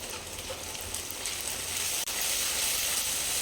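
Tomato puree frying in hot oil with onion and green chillies for a Nellore-style fish curry, giving a steady close crackling sizzle that runs without a break, with one tiny dip near the middle and no talking.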